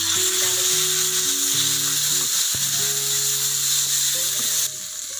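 Chopped tomatoes frying with roasted chana dal in a pan, a loud continuous hissing sizzle throughout, with a steady tonal hum underneath and a slight drop in level near the end.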